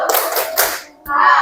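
A classroom of children clapping a rhythmic cheer together at the end of a lesson, with sharp bursts of hand claps, a brief pause, then a voice chanting.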